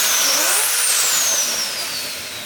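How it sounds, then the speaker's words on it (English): A car with a built rotary 20B engine and twin Garrett turbos roars loudly and close, with a rising whine that peaks, then slowly falls as the engine settles. "It's a 20B, built 20B. Twin Garrett turbo."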